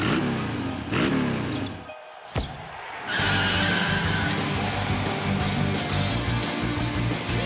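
A cartoon skid effect as a knight slips and slides across spilled glue, with screeching, tire-like sliding swells, a brief drop-out, then a sustained loud skid under busy music-like noise.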